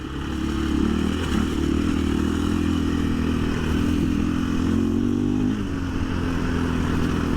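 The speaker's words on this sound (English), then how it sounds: "Just getting on and off the throttle," A 2024 KTM 500 EXC-F dirt bike engine on stock ECU mapping, droning steadily as the rider rolls on and off the throttle, the pitch rising and falling with loose clatter and scrape from riding.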